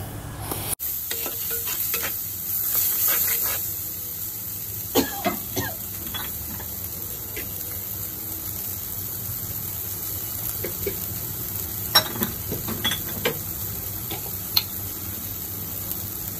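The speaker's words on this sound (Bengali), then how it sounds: "কিছুটা সময় আমি ভালোভাবে কষিয়ে নিব।" Deshi chicken with spices and salt sautés in a clay pot, giving a steady soft sizzle with occasional stirring scrapes and light knocks, close and moderately quiet.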